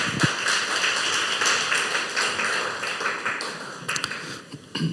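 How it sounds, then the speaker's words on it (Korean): Congregation at a church service breaks into steady, dense applause that fills the room for several seconds, with a few sharper claps standing out near the end. "우리 한번 박수 한번 쳐주겠습니다."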